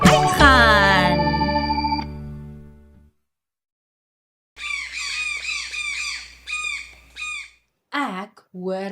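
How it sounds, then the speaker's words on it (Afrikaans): A bird call in a playful baby-learning setting, a loud ringing squawk that fades out over a few seconds, followed after a pause by a series of bright chirping, whistled call notes. "Ek hoor 'n voël. Waar is die voël?"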